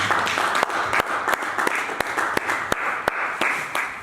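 Church congregation applauding in worship, a steady wash of many hands clapping with some sharp louder claps standing out, continuous and fairly close throughout.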